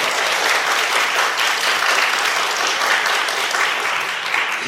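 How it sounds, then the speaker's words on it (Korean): Dense, sustained applause from an audience of parents and participants fills a youth science-talk competition final, a steady wash of many hands with no break and no speech. "같이 박수와 함성으로 한번 시작해볼까요?"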